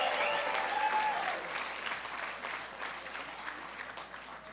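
Audience applause at a celebration honoring first responders who went to Puerto Rico after Hurricane Maria, a dense round of clapping that starts strong and gradually tapers off, with no talking over it.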